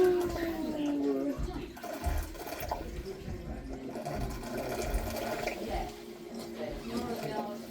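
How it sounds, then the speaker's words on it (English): A working tide mill water wheel turns with rushing, splashing water, a low rumble and faint creaks. Voices talk over the steady flow. "And water turns the water wheel."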